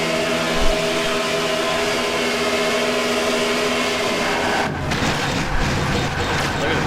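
Race car in a racing video game crashing and flipping repeatedly, a steady engine drone breaking into a burst of loud tumbling impacts toward the end.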